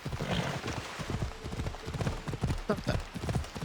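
Hooves of a galloping horse beat in a steady, rapid rhythm in Assassin's Creed Odyssey, sitting close and clear under game background noise.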